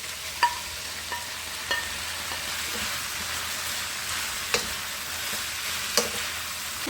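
Tomatoes with sliced garlic fry in a pan for pizza sauce, making a soft, even sizzle with a few sharp utensil clicks and scrapes spaced a second or more apart. No one speaks.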